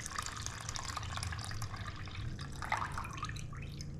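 About 400 grams of water trickles and drips through a coffee filter in a quiet, steady, fairly faint stream with no voices.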